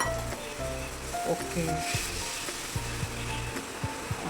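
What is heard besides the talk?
water added to gravy sizzling in pan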